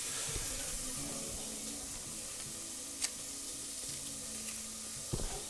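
Onion cooks down in a pan toward caramelizing, a soft low sizzle with a few light clicks and clatters over the steady hiss.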